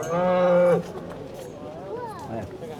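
A Charolais heifer at an agricultural show in Uppingham, Rutland, lets out one loud, close moo lasting just under a second, followed by quieter bellows and other cattle lowing in the background.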